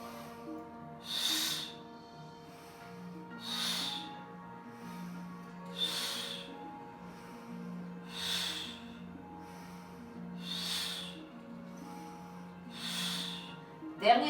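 Slow, deliberate breaths in and out during a Pilates exercise make six evenly spaced airy hisses, each lasting about a second. A soft voice hums faintly underneath and a clunk sounds at the very end.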